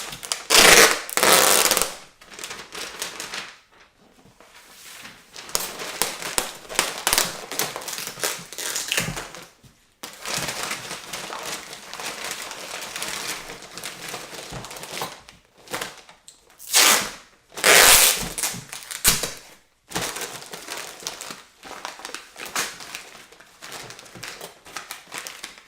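Packing paper is crumpled and folded around kitchen silverware, loud crackling bursts of crinkling and crushing that come in irregular waves with brief quiet gaps between handfuls.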